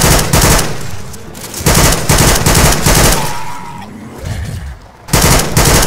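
Automatic gunfire in Left 4 Dead 2, loud rapid bursts of shots close up, repeating in several long strings separated by short pauses.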